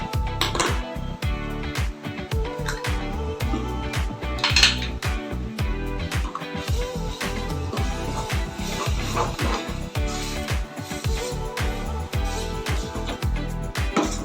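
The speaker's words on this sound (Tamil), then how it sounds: "நல்லா கலந்து விடுங்க. மசாலா எல்லா இடத்துலையும், இந்த மசாலா முட்டை அந்த ஃப்ளேவர் எல்லா இடத்துலையும் இறங்கட்டும்." Eggs with masala being mixed into pearl millet noodles in a pan, a rapid, continuous clatter of a utensil scraping and knocking against metal, loud and close throughout.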